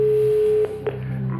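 On a Czech 'Who Wants to Be a Millionaire' game show, a call to a contestant's friend sounds a steady, loud telephone ringing tone that cuts off partway, followed by faint line clicks.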